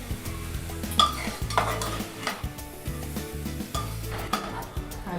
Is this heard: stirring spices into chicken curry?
yes